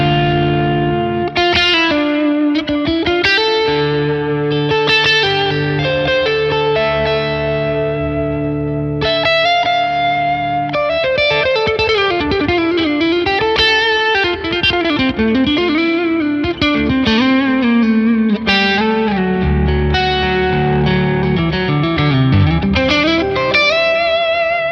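An electric guitar played through a Revv D20 amplifier rings out with a chimey, responsive tone, loud and sustained, with drive, modulation and reverb on flowing chords and bending lead lines, no voices.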